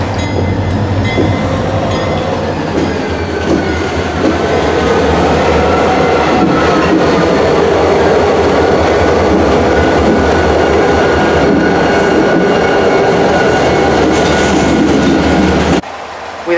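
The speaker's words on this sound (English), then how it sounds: "suddenly CSX B731 returned from Framingham" CSX B731 freight train passing at Readville, a loud, continuous rumble and rattle of cars rolling close by with clattering wheels, cutting off abruptly near the end.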